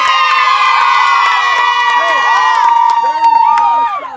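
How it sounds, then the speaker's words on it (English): A large crowd of fans cheers and shouts loudly and continuously after a state quarterfinal softball win, with excited children's voices and whoops rising above the roar before it suddenly cuts off. "Look at the crowd that followed you."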